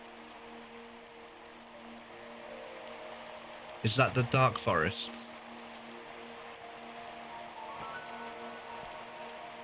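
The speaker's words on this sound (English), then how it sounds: "Oh no, it's raining." Rain falls steadily in a survival video game, a soft continuous patter under a constant hum, while a voice speaks briefly midway.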